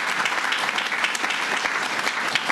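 Steady, dense audience applause at an outdoor public announcement about a seawall, continuous clapping from a crowd at an even level.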